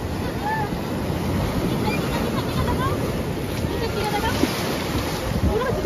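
Sea waves washing up on the beach at Digha, a continuous rushing surf under blustery wind buffeting the microphone, with faint voices and distant calls in the background.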